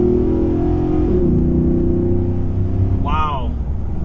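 A 2017 Nissan Titan Pro 4X with a 5.6L gas engine and a K&N intake, heard from inside the cab with the windows up as a loud, steady low engine drone under acceleration; a brief rising tone cuts in near the end.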